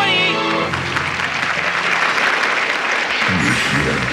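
A studio audience on a 2001 Singapore TV game show breaks into dense, sustained applause welcoming a competing team, rising right after a brief musical sting and holding steady, loud and close.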